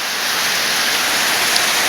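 Dense, steady rain pours down heavily, a continuous loud wash of drops with no pauses.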